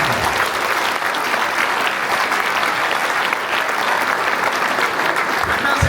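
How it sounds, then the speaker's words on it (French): Audience applause fills a community awards evening honouring local food producers, a dense, steady wash of clapping from a large crowd that holds at even loudness throughout with no breaks. "Alors, on leur donne une bonne main d'applaudissement pour leur beau geste."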